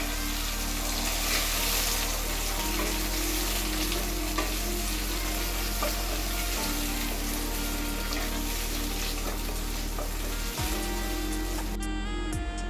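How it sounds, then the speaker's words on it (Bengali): Chopped tomatoes fry in hot oil as they are stirred, a loud continuous sizzle with occasional scraping clicks, no voices over it. "টমেটোটা আমার ভাজা হয়ে গেছে তেলে"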